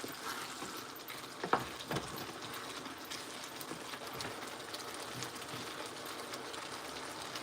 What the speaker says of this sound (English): So give it a nice stir.